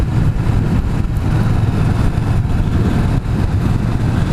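A Kawasaki Vulcan S650 motorcycle rumbles steadily while being ridden, its engine a loud, continuous low drone with a slight dip near the three-second mark and no talk over it.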